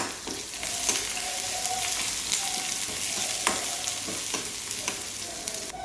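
Chopped shallots and garlic fry in hot oil while being stirred, a steady loud sizzle with scraping stirs and small clinks throughout, no speech.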